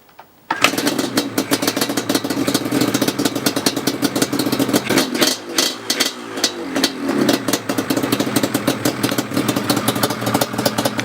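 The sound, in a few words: Yamaha Banshee ATV engine starting and running in cold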